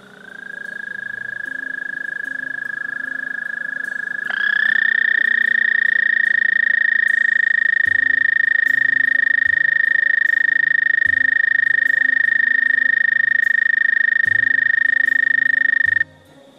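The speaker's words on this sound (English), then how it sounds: "American toad, Bufo americana." An American toad (Bufo americanus) gives a long, steady musical trill, loud and close, that brightens and rises slightly after a few seconds and holds unbroken for about twelve more before cutting off, over faint background chorus.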